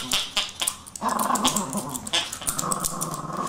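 A dog growls low and rumbling close to the microphone, a few short broken growls at first and then a longer sustained snarl, with faint whimpering yips mixed in and no talking.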